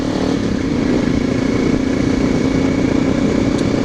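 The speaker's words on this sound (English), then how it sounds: "You can hear the reed valves working on my bike." A motorcycle with a Rotax engine and reed valves runs steadily nearby, a constant buzzing engine drone at moderate loudness with no talk over it.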